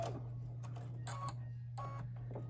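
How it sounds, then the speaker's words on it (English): A sewing machine stitches a quilt block seam for an Irish Chain block, giving short whirring bursts that start and stop twice, quiet and close, with a low steady hum underneath and no talk. "And then I'm going to stitch that seam, being careful to take the pins out when I come to them."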